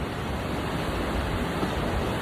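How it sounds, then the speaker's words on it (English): Ocean waves rolling in to the shore and drawing back out, a loud continuous broadband wash of surf with no speech over it. "you see the waves coming in to the shore and then the waves going back out"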